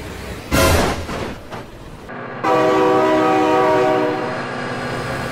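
Train in the BeamNG.drive driving game rolling past with a loud rumble, then a sustained, sharply pitched horn blast sounding up close alone.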